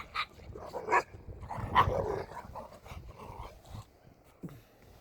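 Dogs making excited, playful noises nearby, a mix of yips, short barks and low growls, scattered unevenly over a few seconds.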